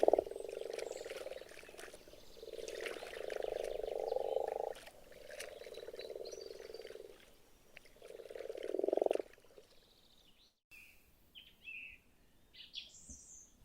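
Frogs croaking in a Hungarian forest in spring: loud, rhythmic pulsed croaking choruses in several bursts, with birds chirping intermittently in the background and a brief quieter passage of bird calls at the end.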